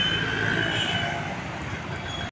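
Steady broadband rumble of a metro train, loud and continuous with a droning whine on top, holding level for over two seconds before cutting off abruptly.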